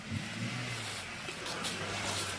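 A car drives past at night near an abandoned building, its engine rumble swelling and fading at moderate distance while voices whisper faintly.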